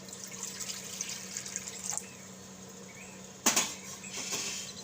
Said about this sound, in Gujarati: એમાં આપણે પાણી નાખશું.